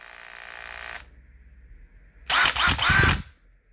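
Makita DHP482 cordless combi drill run in screwdriver mode, giving a brief steady motor whine for about a second, then a louder, rougher burst with rising and falling pitch as the trigger is varied, close up with no talk.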